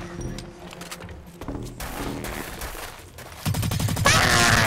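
Rapid bursts of gunfire from the first-person shooter Blacklight: Retribution, shots clustering into dense volleys that grow louder and fuller toward the end, with no talk over them.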